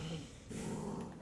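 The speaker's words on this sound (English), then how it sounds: "Shut up, doggy. I don't like dogs." A dog in the video game Wolfenstein The New Order growls and snorts close by in a short, rough burst, with talk over it.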